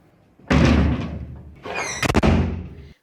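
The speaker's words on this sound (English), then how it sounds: "they always slammed doors" Door slamming as a sound effect for a read-aloud children's story, two loud heavy thuds with a rattling, knocking tail on the second, each standing alone.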